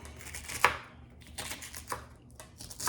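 A knife chops firmly through tough okra pods on a board, a few sharp cuts spaced unevenly, quiet and close with no talking.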